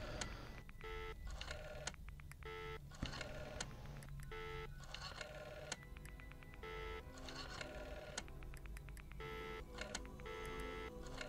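Keypad dialing tones from a telephone in a virtual cabin video game, a series of short electronic beeps in irregular bursts, faint and at a low level with steady background noise.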